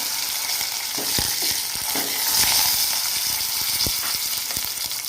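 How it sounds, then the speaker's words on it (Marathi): A tempering for dry coconut chutney, with fenugreek seeds and curry leaves in hot oil, crackles and sizzles loudly and steadily, with sharp pops scattered throughout and no voices. "आता थोडेसे दोन चार मेथे घालणार आहे मी आणि सगळ्यात लास्ट कढीपत्ता आला छान अशी मस्त फोडणी"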